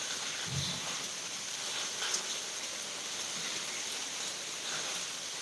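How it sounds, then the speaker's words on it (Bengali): Monsoon-season rain falls steadily outdoors, a continuous even hiss of drops at moderate loudness that stays unchanged throughout, with no voices. "যেহেতু এটা বর্ষাকাল তাই বৃষ্টি তো হবেই"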